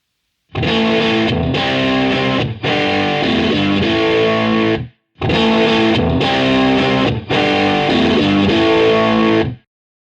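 Heavily distorted electric guitar chords through a cranked BluGuitar AMP1 with heavy power amp distortion, two long strummed phrases with brief pauses, loud and saturated.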